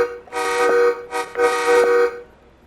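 A locomotive horn in Train Sim World 4 on the MBTA Providence–Boston route sounds two loud, sustained honks, each about three-quarters of a second long, separated by a brief gap. It is close and clear, with no talk over it.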